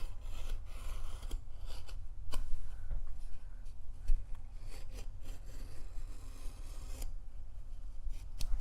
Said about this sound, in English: So cut these with your knife.